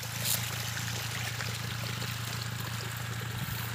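Irrigation water from a pump gushes steadily into a rice paddy, a continuous pouring and trickling stream with a low pump hum underneath, with no voices.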